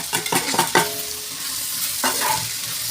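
Onion, tomato and green chili sautéing in a pan for chicken curry, a steady soft sizzle broken by a few sharp stirring scrapes near the start and again around two seconds, with no voices.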